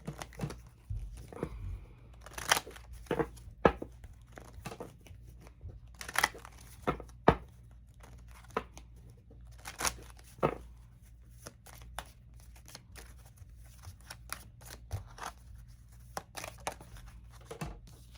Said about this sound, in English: I'm going to use this Moonology deck here.